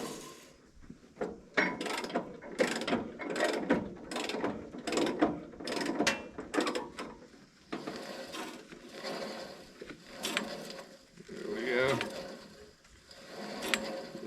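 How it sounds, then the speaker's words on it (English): A rusty, long-idle sawmill band blade is turned by hand while being tensioned, giving a close run of clicking, ratcheting mechanical knocks in uneven bursts, with scraping and handling sounds between them. "Try to turn it as I tension it. I try to rotate it and let the blade track to where it wants to track."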